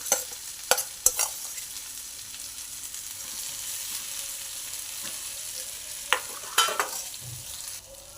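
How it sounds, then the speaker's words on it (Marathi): Spiced masala-stuffed brinjals roasting in a pan, a low steady sizzle punctuated by a few sharp clinks and scrapes of a spatula near the start and toward the end, with no speech. "छान असा मसाला वांग आपण भाजून घेणार आहे।"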